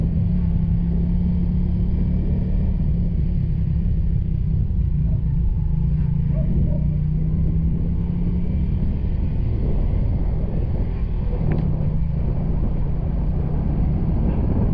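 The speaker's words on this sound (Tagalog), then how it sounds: "Sakay tayo ngayon ng motorsiklo at ating tinitingnan yung mga pagbaha dito sa Oriental Mindoro." A motorcycle rides through flooded roads in Oriental Mindoro, producing a steady low engine rumble and road noise that stays loud and continuous for the whole stretch, with no talk over it.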